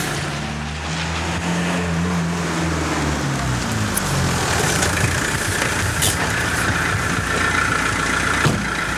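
A car engine idles with a low, steady rumble that shifts in pitch early on, accompanied by a constant hum throughout.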